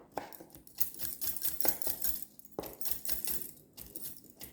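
A knife slices repeatedly through coconut flesh on a board, irregular crisp cuts and taps, close and clear with no talking.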